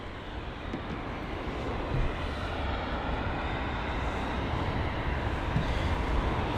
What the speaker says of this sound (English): So that's Brussels Airlines in their A320 CEO featuring the Star Alliance livery.